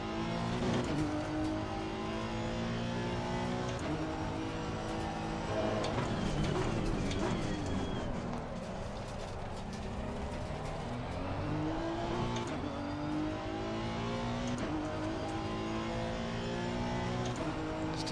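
GT3 race car engines in the Assetto Corsa Competizione racing game, loud sustained engine drone with rising and falling revs through gear changes and passing cars over a long stretch, no talk.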